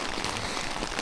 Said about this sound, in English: It's basically just pissing it down with rain the whole time.